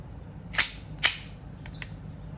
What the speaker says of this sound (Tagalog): M92 silver airsoft pistol.